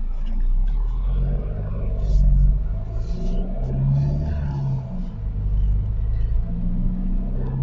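Skoda Laura engine running in a Bangalore repair garage, a steady low rumbling idle with slight revs, close and continuous.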